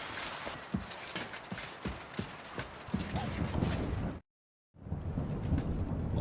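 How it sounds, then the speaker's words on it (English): Steady summer rain hisses in the medieval game Kingdom Come Deliverance 2, with rhythmic horse hoofbeats plodding through it at first, then a brief silent cut before the rain continues. "Sweet summer rain."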